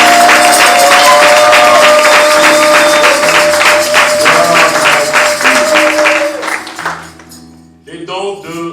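Church congregation at a French-language worship service bursting into loud, sustained applause and acclamation, dense clapping filling most of the span before tapering off near the end, with some voices mixed in.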